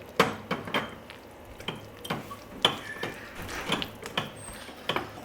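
Yogurt and flour stirred together in a bowl for Turkish yayla soup, a series of irregular clinks and scrapes of a spoon against the dish, close and fairly faint, with no talk.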